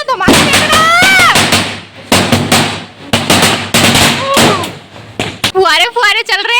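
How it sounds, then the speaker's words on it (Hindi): A string of firecrackers (ladi) bursts at Diwali in loud, rapid sharp cracks and pops in clustered volleys, with voices talking over and between the bangs and some high whistling bursts near the end. "लड़ी जला रहा है 10 रुपए वाली।"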